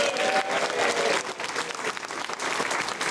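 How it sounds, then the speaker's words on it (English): Crowd applause for SEIU 32BJ union members at a rally, a full, steady burst of clapping lasting a few seconds with little talk. "SCIU 32 BJ members are here today. Give them a round of applause."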